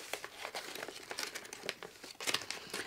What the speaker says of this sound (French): Tu sais quand t'as le scotch qui veut pas se décoller.